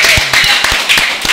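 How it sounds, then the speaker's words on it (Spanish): Short burst of clapping greets a school volleyball team on a sports talk program, a handful of close, sharp, irregular claps from a small group rather than a large crowd. "un aplauso para estos muchachos"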